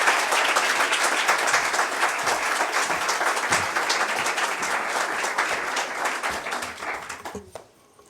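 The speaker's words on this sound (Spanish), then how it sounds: "yo les pido un aplauso al maestro y a todo el equipo" Dense audience applause fills a room at a book presentation for Carlos Prieto's Mi vida musical, loud and sustained before quickly fading out at the end.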